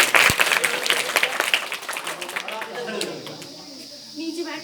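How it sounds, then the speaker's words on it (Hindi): Children applaud at a school magic show, a dense burst of clapping that fades after a couple of seconds into quieter room noise. "दोनों के लिए एक बार जोरदार ताली हो जाए"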